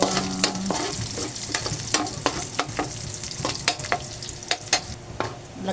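Garlic sautéing with shrimp in a hot pan for ginisang sayote gives a steady, close sizzle, broken by sharp utensil scrapes and clacks as the pan is stirred in quick, irregular strokes.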